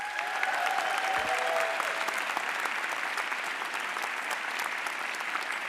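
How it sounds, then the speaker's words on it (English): Commencement audience at a graduation ceremony breaks into sustained applause for graduates' families, a steady dense wash of many hands clapping at moderate distance with a brief whoop near the start. "So please, let's give them a hearty round of applause."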